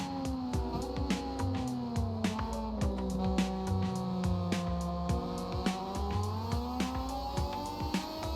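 Motorcycles in a video game race start at Mugello, engines droning and shifting pitch steadily throughout with repeated sharp ticks over the sustained mechanical whine, loud and continuous with no talking.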